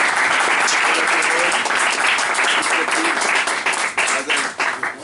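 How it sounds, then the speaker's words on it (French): Standing audience applauding a rabbi at a Torah lecture, with dense, sustained clapping that fills the room and begins to thin toward the end. "vous allez tous vous lever, vous allez applaudir le Rav Ifrach"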